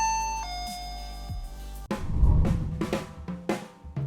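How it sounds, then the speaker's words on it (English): A Switchbot Hub 3 smart home hub sounds a doorbell-style chime: clear ringing tones that hold and fade over the first two seconds, then give way to louder clattering and handling noise. "you'd be able to set that to make this chime."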